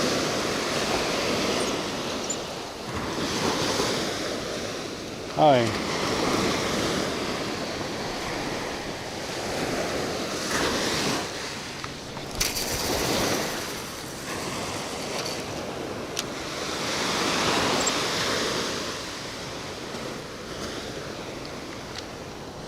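Waves break continuously along a Gulf Coast beach in Florida, a sustained rushing wash that swells and recedes, with wind gusts hitting the mic and a brief voice speaking partway through.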